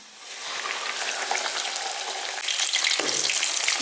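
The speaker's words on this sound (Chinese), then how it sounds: "下面我们把鱼给它放到油锅里边，" Crucian carp frying in plenty of oil in a home kitchen pan, a dense, bright sizzle that rises quickly and holds steady, growing a little louder near the end with a brief clatter.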